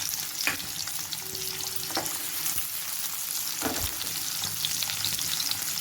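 Sliced onions frying in oil with urad dal and seasoning seeds produce a close, dense sizzle, broken by a few scraping stirs of a spatula in the pan.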